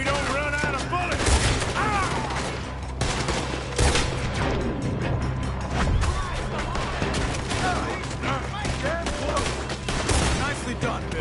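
A Red Dead Redemption 2 gunfight, with dense, continuous rapid gunfire and crackling shots layered with booms throughout, loud and busy, with occasional voices shouting in the mix.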